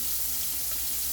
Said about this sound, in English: That chicken, that's what you hear sizzling over here